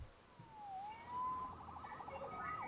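A police siren in the Spider-Man Remastered video game wails up and down continuously, faint and distant, with no talk over it.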